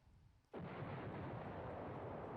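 Artillery fire in the Command Ops 2 wargame: after a quiet lull, a sudden heavy blast erupts and rolls on as a sustained, loud rumbling roar.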